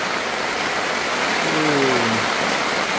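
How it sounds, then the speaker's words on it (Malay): Heavy rain pours steadily at a rainforest campsite, a dense, even hiss close by, with a faint tonal sound drifting in briefly partway through. "Malam kedua lagi lebat hujan."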